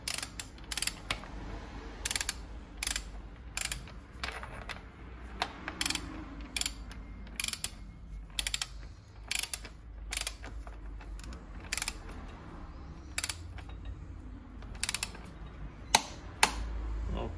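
A bolt on a bicycle front fork is tightened to 35 Nm with a ratcheting tool, giving a steady run of sharp clicks in short bursts over a low background hum, close and clear, with no talking.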